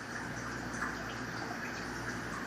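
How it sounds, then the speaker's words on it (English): Water spills steadily from the waterfall outlet of an in-tank filter in a Tetra 10-gallon Halfmoon aquarium, a constant close trickle and hiss with no talk. "the kit comes with this in-tank filter. It has a kind of waterfall"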